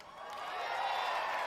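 A crowd cheers and applauds at a Bethesda E3 livestream, a dense roar of voices and clapping that builds and holds steady, heard at a distance.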